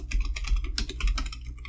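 A password is typed on a computer keyboard on a Linux Mint machine, with a quick run of about a dozen close, crisp keystrokes in rapid, slightly uneven rhythm and no talking.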